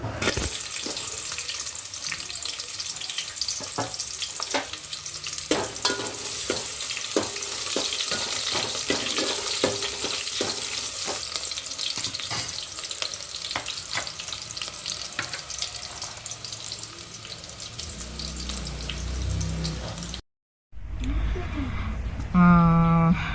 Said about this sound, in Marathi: गरम झाले तेल, इथं बारीक चिरून घेतलेला कांदा टाकते